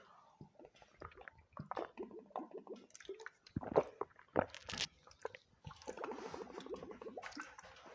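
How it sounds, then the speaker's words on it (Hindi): Someone drinks a little water close to the microphone during a maths lesson, making soft sips, swallows and wet mouth sounds in short, irregular bursts in an otherwise quiet room. "तब तक मैं थोड़ा सा पानी पी लूँ"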